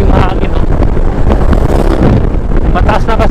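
Heavy wind buffeting from riding a Honda ADV 160 scooter on an open highland road in Batangas, a loud continuous roar with rushing gusts filling the sound and no clear voice above it.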